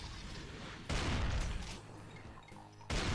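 Gunfire from a Doom-style shooter map with chaingunner enemies: two loud broadband blasts about two seconds apart, each followed by a dense crackling rattle and a decaying tail.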